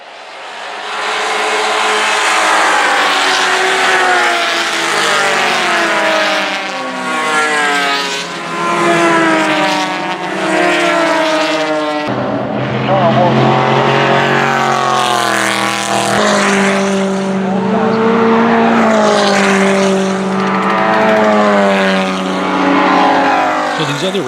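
Race cars speed down the straightaway at Road Atlanta during the Petit Le Mans endurance race, engines loud and close, rising and falling as several cars pass in succession for the whole stretch.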